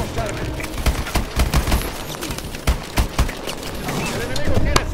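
Gunfire in the video game Call of Duty Advanced Warfare: rapid bursts of shots and booms in quick succession over game noise, loud and close, with a denser barrage near the end.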